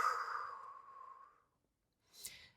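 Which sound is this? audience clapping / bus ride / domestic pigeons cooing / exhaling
exhaling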